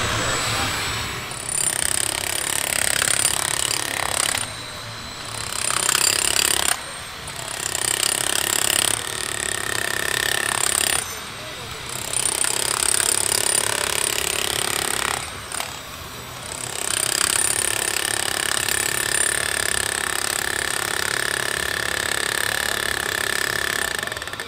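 A Metabo MHEV11 demolition hammer with 18.8 joules of impact energy runs loud and close in several long sustained bursts, its hammering rattle broken by brief pauses.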